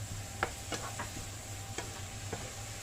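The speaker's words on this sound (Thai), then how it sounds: "ผัดให้เห็ดสุกค่ะ" Mushrooms being stir-fried in a pan for homemade tortillas, with scattered spatula scrapes and taps over a low, steady sizzle, close and fairly quiet.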